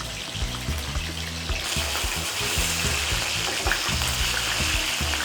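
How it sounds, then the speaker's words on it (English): Steady sizzling and crackling of fresh chicken frying in a pan, continuous and close, with faint watery hiss throughout and no talking. "I'm frying my chicken."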